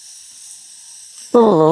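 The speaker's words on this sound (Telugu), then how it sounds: "ఒకసారి చూడండి జుమ్ జుమ్ జుమ్ అని ఎలా అంటున్నాయో" A thin, steady hiss like escaping steam runs on softly from bamboo stalks cooking chicken and flattened-rice biryani over a fire, then a loud voice abruptly cuts in near the end.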